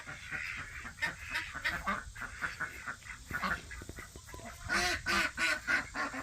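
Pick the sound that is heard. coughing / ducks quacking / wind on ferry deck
ducks quacking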